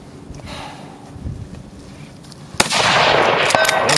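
A precision rifle shot fired at a distant target during a precision rifle competition, heard as one sharp, loud crack followed by a sustained roar of wind or ambient noise.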